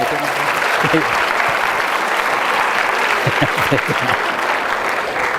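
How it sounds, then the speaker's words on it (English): Audience applause for hypnosis show volunteers: sustained, full clapping from a crowd at even volume throughout, with a few voices faintly audible underneath. "Give these folks a round of applause"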